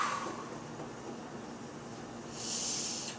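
A voice imitates the strained breathing of someone whose back has seized up, made up of a faint, breathy exhale followed by a sharper, hissing rush of air near the end, close and quiet.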